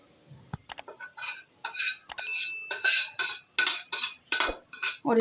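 Semolina stirred quickly into one-thread sugar syrup for suji halwa, a run of rapid metallic scrapes and clinks of a spoon against a pan, close and fairly loud, no talking.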